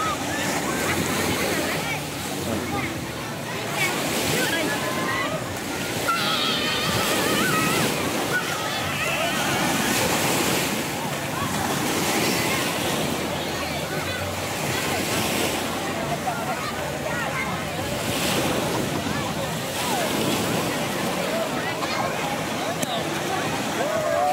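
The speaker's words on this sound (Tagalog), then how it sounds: "Bulabog Beach na mayroong ocean and river." Ocean surf at Bulabog Beach in Puerto Galera, Mindoro, where the sea meets a river, washes in a steady, loud roar of breaking waves with rushing wind noise throughout.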